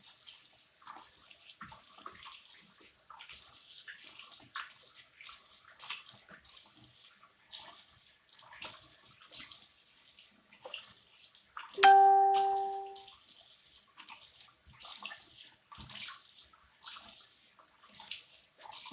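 Tap water runs steadily throughout while a face is rinsed at a sink, with a brief ringing ding partway through; no talking.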